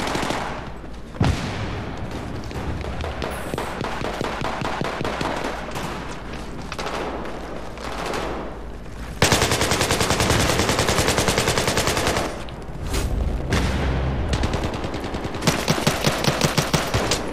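Gunfire fills a Battlefield 3 multiplayer match, with sustained automatic bursts, single loud shots and heavy rapid volleys. The firing is dense, close and overlapping, running almost without pause.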